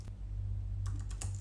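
A few quick keystrokes on a computer keyboard on a Mac, a short cluster of light clicks close by over a low steady hum.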